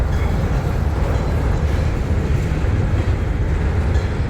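Freight train rolling past on the rails at close range, a steady loud rumble with wheel clatter that fills the whole stretch without talk.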